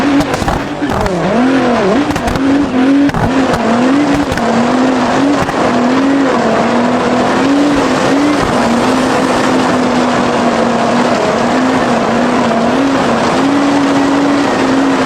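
An Audi TT RS drives off-road, its engine droning loud and continuously with wavering pitch as it revs and labours, under a brief voice near the start.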